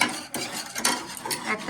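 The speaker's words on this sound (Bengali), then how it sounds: "তো এখানে ভাজা হচ্ছে পিঠে" Pithe rice cakes frying in a pan at home, with a soft sizzle under intermittent stirring and light utensil scrapes, close and moderately quiet, with no talking.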